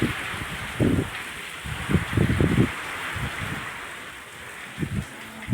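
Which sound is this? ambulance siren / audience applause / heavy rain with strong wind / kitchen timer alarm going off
heavy rain with strong wind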